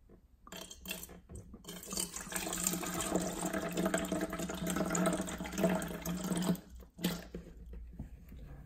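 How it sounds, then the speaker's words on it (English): Water, Trader Joe's New Zealand artesian bottled water, pours steadily into a cup for several seconds with a bright, splashing stream, close by, then stops briefly and resumes for a short splash. "Let's pour some water in."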